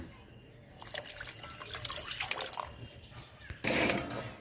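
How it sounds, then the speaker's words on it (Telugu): Water splashes and pours into a pot of sambar set to boil, a close liquid rush that swells midway and surges louder near the end, with faint voices in the background. "తగినన్ని నీళ్ళు వేసి ఉడకబెడతా."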